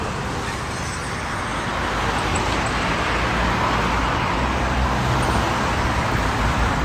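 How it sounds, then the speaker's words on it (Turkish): Steady, loud road traffic rumble surrounds a car during a driving test in a busy street, a dense continuous roar of passing vehicles close by. "Trafiğin ortasındayız."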